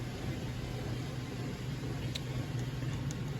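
Roomba robot vacuum running in a home kitchen, a faint steady whirring hum with soft brushing noise, continuous and unchanging in the background.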